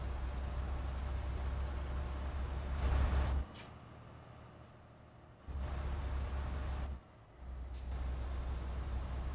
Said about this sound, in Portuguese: Vamos ver como é que tá o nosso caminhão aqui. Tá rodando super de boa.